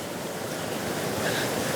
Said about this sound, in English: Lots of water moving through here.